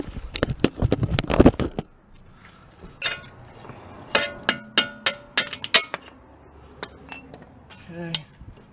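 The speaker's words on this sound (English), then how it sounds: "so now I can punch out the lower bolt" A hammer strikes a punch to drive out the lower bolt during a CV axle replacement on a 2001 Toyota Avalon, sharp metallic clinks ringing out. A rapid cluster comes first, then a steady run of spaced blows, close and loud.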